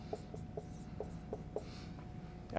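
Pen or marker strokes while writing out a chemistry equation, a series of short, light taps and scratches spaced unevenly across a quiet room background.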